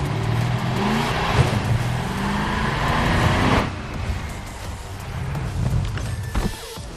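A Warthog vehicle ride in the Halo video game: a loud car engine revs and rumbles with road and roaring noise, shifting pitch midway and continuing with clatter, no talk.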